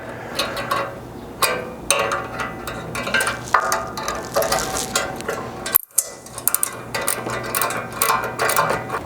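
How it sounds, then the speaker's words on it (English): Ratcheting wrench clicks and metallic rattling as Baja Designs light mounts are tightened onto a Blitz front bumper on a Chevy Colorado, repeated bursts of close mechanical ticking with a brief gap midway. "then tightening it up, which on these Baja Designs lights is 2 9/16 wrenches"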